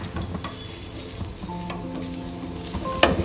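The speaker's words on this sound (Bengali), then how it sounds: "লাস্ট গোবি পরাঠা ভাজা চলছে।" Gobi paratha, a cauliflower-stuffed flatbread, frying in a pan during a vegetarian home cooking session, with a steady close sizzle broken by occasional stirring and utensil scrapes, and a sharper clink near the end.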